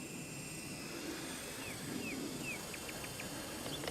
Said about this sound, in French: Et je suis gaz à fond et l'hélico ne veut plus avancer.